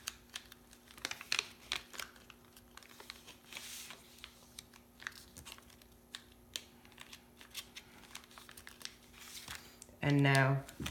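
Paper folded for a paper airplane: light creasing and tapping sounds scattered throughout, ending in a brief louder crinkle, close and quiet with faint speech in the background.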